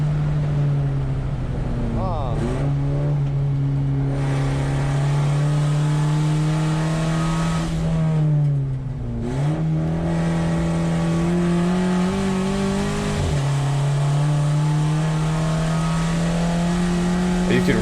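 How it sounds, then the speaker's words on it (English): A VW Jetta GLI Super Touring race car with a boost leak at Thunder Hill Raceway drones loudly through gear changes on track, its engine note rising and dipping under a constant airy hiss of escaping charge air. "you can hear on the throttle all of the air being released through one of the charge pipes"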